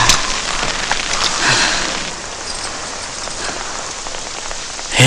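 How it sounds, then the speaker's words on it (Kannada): Rain patters heavily on a hard surface in a loud, continuous wash, with slight gusty swells early on and a few sharper drop impacts near the end; no speech. "ಈ ಮಳೆಗಾಳಿಗೆ ಏನು ಕೇಳಿಸಲ್ಲ ರೀ."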